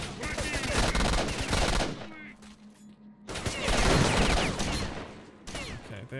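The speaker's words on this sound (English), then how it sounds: "they're shooting in my direction because they know where I am" NPCs firing guns in STALKER Shadow of Chernobyl, loud bursts of automatic fire and rattling shots, breaking off briefly into a quieter lull before another heavy volley resumes.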